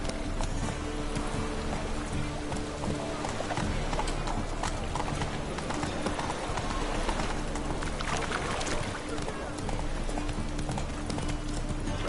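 Roach, a horse in The Witcher 3, trots with steady, continuous clip-clop hooves that sit close and loud throughout, over rain and a dense game soundscape.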